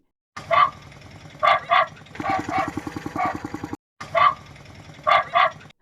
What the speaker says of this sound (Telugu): ఈ అన్న ఆటోకు కుక్క మురిగే సప్పుడు పెట్టించిండట